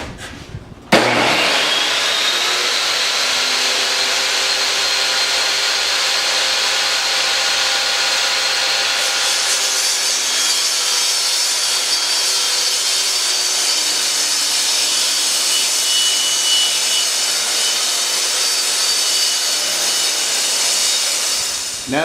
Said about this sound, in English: crank up the saw and we'll get this cut